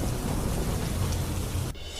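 Heavy rain pours steadily as a dense, loud hiss with low rumbling, likely thunder, over a highway near Palanpur and Ambaji, until the sound drops abruptly near the end.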